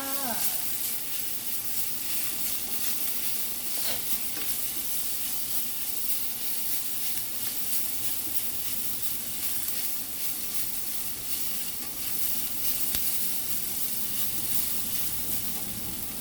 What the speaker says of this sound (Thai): ัดไปเรื่อยๆค่ะจนกว่าหมูของเรา สุกค่ะ